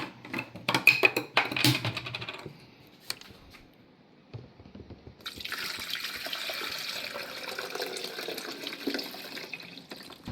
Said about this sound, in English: And then I throw in my water.